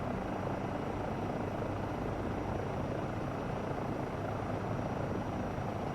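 Steady, dense rotor and turbine drone of a Eurocopter EC135 or Bell 407 hovering in Microsoft Flight Simulator 2024, loud and unbroken throughout.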